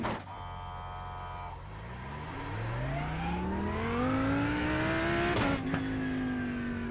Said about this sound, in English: What makes the robot sound downshift?